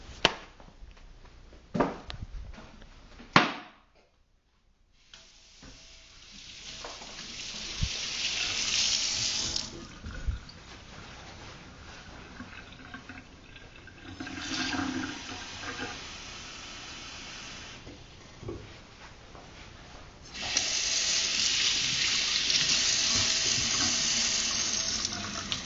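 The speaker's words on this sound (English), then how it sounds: "This is an average household sink" A household sink tap runs in bursts: after a few sharp knocks and a silent pause, water splashes on and off, growing louder, then settles into a strong steady gush for the final stretch, with no talk.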